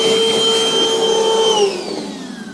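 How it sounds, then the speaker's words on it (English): A shop vacuum runs loudly and close by with a steady whine, sucking up metal filings from a freshly filed fifth wheel mounting hole on a 2017 Toyota Tundra, then its pitch drops near the end. "you'll want to come back and just file and keep vacuuming"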